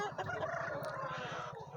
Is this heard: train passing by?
no